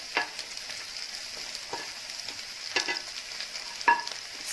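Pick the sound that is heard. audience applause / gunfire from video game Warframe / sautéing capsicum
sautéing capsicum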